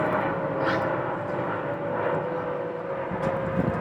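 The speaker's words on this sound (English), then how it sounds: "And there goes an airplane." An airplane flies overhead above a garden, a loud, steady engine roar that fills the whole stretch with a constant drone and a faint whine, and no voices over it.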